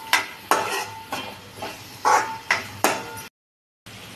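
Fried potato pieces sizzle in a pan for poha, stirred in a run of sharp rhythmic scrapes and clinks about every half second, close and clear, before a brief silence.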